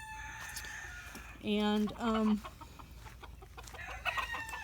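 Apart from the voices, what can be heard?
white-crested Polish rooster and hens in pen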